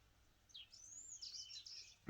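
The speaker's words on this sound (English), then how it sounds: "The birds are chirping," Birds chirp outdoors on a calm, windless day, giving a run of high, thin, sweeping calls at moderate distance over faint background hiss, ending with a soft low thump.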